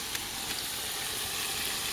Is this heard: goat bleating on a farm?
no